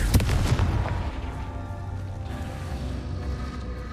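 A Confringo spell explosion in Hogwarts Legacy: a loud, close, booming blast with a crackling burst at the start that fades into a low rumbling tail, with no voice over it.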